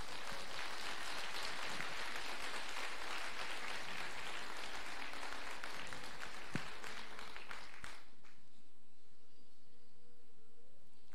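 A church congregation at a Sunday celebration service claps together in a sustained, even burst of applause that cuts off abruptly, leaving quiet room tone.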